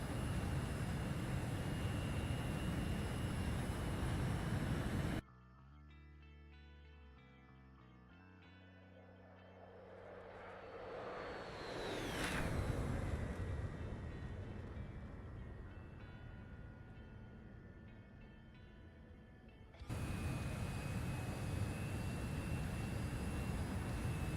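A jet aircraft in the DCS-style flight sim ARCCO match, approaching runway 27 at Senaki-Kolkhi, with a steady engine drone that swells to a loud whooshing peak mid-clip and then settles into a sustained roar, no talk.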